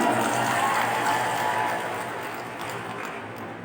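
Audience applause at a character-building workshop in Nganjuk, a dense, steady wash of clapping that fades slightly toward the end, with no speech over it.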